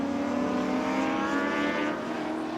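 A 6-litre Chev-powered Falcon sports sedan, an ex-Seaton Group A V8 supercar, racing at Calder Park, its engine droning loud and steady with a slight pitch shift as it holds speed.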